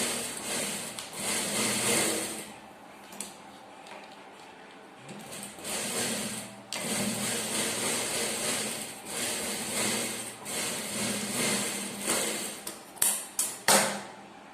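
A sewing machine stitches a plain blouse with a fine, steady whirring that runs in bursts, stopping briefly and starting again, and a few sharp clicks near the end.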